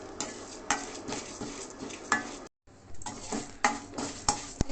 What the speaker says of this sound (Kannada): ಇದು ಅಷ್ಟೇ ಎಣ್ಣೆಲಿ ಚೆನ್ನಾಗಿ ಫ್ರೈ ಆಗಬೇಕು, ಬ್ರೌನ್ ಕಲರ್ ಬರಬೇಕು.